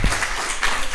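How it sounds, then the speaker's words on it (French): Brief burst of audience clapping for a lecturer about to speak at a talk on cinema and literature, loud and close, lasting only a moment. "Un petit applaudissement d'encouragement pour Christophe."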